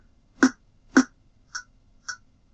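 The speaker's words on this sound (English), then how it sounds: "So the different percussion sounds sound like this." Four short electronic percussion hits from a Casio keyboard sound in an even, spaced rhythm, the first two fuller and louder, the last two thinner and quieter, with no talking.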